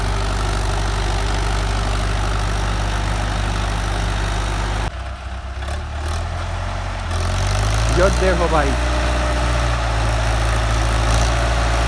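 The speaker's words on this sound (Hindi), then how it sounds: "ट्रैक्टर ने बिल्कुल भी 0 RPM ड्रॉप के साथ चल रहा है" An Indo Farm tractor with a rotavator attached runs with a steady, heavy diesel drone, close by. It dips briefly midway before resuming, while someone speaks over it.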